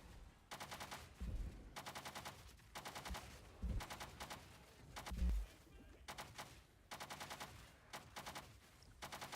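Poison crossbow in a video game firing in short rapid bursts, several quick volleys of shots separated by brief pauses, fairly loud and close.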